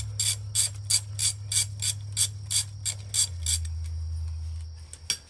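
A hand ratchet loosens the stator cover bolts on a Suzuki GSX-R motorcycle, giving a close, even series of about a dozen sharp clicks over a low steady hum. The clicking stops near the end.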